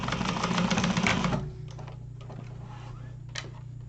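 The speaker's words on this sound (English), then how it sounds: "so I'm going to just top stitch right here" Sewing machine top stitching a wallet, running in a dense rapid mechanical stitching burst for about a second and a half, then stopping, leaving low hum and faint clicks.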